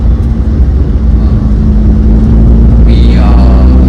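Engine of an older Suzuki Zen car droning steadily while driving, a loud low hum close by that rises slightly in pitch toward the end, with no voices.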